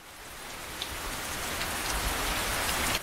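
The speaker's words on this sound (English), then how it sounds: "Hear that? That's the sound of a leaky roof." Steady rain patters and hisses, dripping through a leaky roof, a dense wash of drops with a few slightly louder taps, continuous and fairly close.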